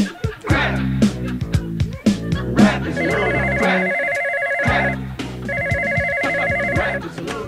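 Telephone ringing in repeated electronic bursts of bell-like trills, two distinct rings over a backing of music with a rhythmic beat, loud and clear.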